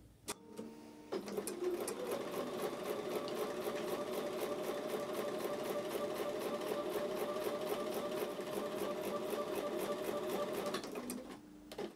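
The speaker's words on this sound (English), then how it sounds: "So I'm going to take those back over to the sewing machine" A sewing machine stitches seams in one continuous run of about ten seconds, with a rapid, even mechanical chatter. It starts and stops cleanly in a quiet room.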